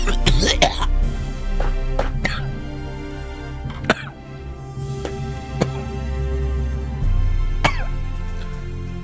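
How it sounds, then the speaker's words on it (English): A person coughs and clears their throat several times in short sharp bursts, close to the microphone, over a steady background of music and hum. "That's why I'm coughing."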